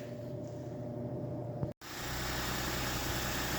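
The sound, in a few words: car engine idling as car is pulled out of garage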